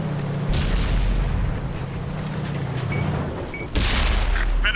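A Type 59 tank's cannon fires in a video game, each shot a heavy booming blast. Two loud reports land roughly three seconds apart over a low engine rumble, with no speech.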